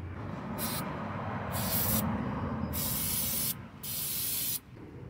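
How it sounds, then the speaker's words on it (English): Starter fluid is sprayed as a stand-in for brake cleaner onto car parts during Honda CR-V tie rod end work. Several loud, close aerosol hisses come in bursts separated by short pauses. "This is starter fluid, but I don't have brake cleaner at this moment."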